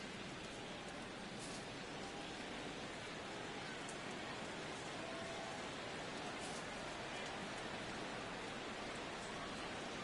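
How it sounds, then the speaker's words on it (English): Heavy rain pours steadily over a baseball stadium on Memorial Day, a dense unbroken hiss that fills the whole stretch with no pauses and no voices. "This has got to be the hardest rain we've seen all afternoon."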